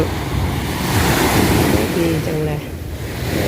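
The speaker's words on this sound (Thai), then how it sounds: "ฟังเสียงคลื่นซัดสาดเข้ามาที่ชายฝั่ง" Surf rolls and crashes onto the shore at Bang Saray Beach in Sattahip, Chonburi, at sunset, a steady wash of waves with gusting wind noise on the microphone. Someone speaks briefly over the waves.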